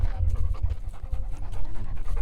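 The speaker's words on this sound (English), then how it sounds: "Look at that old dog." An old dog panting close up, rapid rhythmic breaths repeating steadily and fairly loud, with no talk over it.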